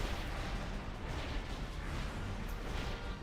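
Cannon fire rumbles in a World of Warcraft Icecrown Citadel heroic raid as a dense, continuous barrage of booming blasts and crackling bursts with no pauses between them.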